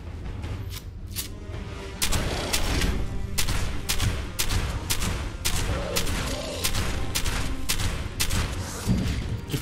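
Dense, sustained gunfire rattles through a Fallout 76 fight, with rapid loud shots layered over booming impacts and continuing almost without pause throughout.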